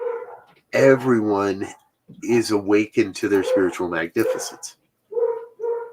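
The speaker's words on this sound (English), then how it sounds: "My apologies if you could hear the puppy dogs barking." Small puppies bark and yip in the background beneath a man's continuous speech, the barks short and intermittent, mostly masked by the talking, with a few clearer yelps near the end.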